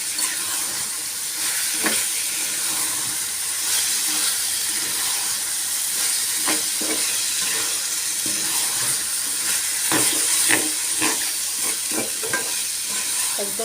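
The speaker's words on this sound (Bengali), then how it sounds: "আমি একদম পানিটা শুকাই নিচ্ছি।" Chicken samosa filling with onion sizzles steadily in a pan as its water cooks off, with continuous frying hiss and intermittent stirring scrapes close by, no voices.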